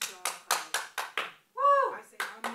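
A few scattered hand claps from a small audience at a live arts salon, sharp separate slaps in an irregular rhythm, with a voice speaking in the middle.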